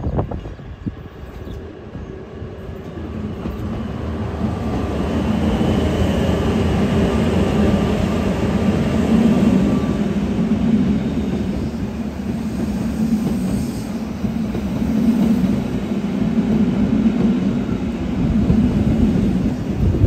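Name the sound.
Bernina railway train running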